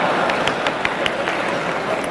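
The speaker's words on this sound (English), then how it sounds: "Then hold your applause, for heaven's sake" A debate audience applauds in a hall, a steady, moderately loud patter of many hands with a few sharper claps standing out.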